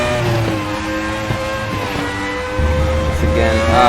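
A Formula 1 car engine braking and feathering power through a corner, a loud, close, tonal whine that dips and wavers as the throttle is modulated, then picks back up, with little talk.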